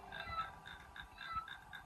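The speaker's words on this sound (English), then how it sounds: "Sounds like a frog, right?" Frog-like croaks repeat in a steady rhythm at a band practice, fairly quiet and close, with low rumbling noise underneath and no talking.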